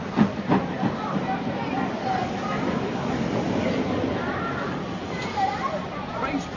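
Steady rumble of a train carrying crowded passengers, used as a radio play sound effect, running continuously under dialogue at moderate loudness.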